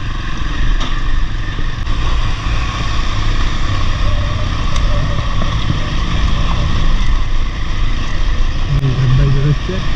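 Royal Enfield Himalayan 450 motorcycles riding off-road, one overtaking another, their engines a steady continuous drone mixed with wind rumble throughout, with a rising engine note near the end.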